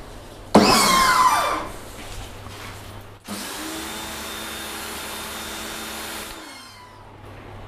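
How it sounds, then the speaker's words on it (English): A pressure washer sprays a car: a short burst, then a loud, steady hiss with a motor whine that holds for about three seconds and stops abruptly. No one speaks. "Get the pressure washer on."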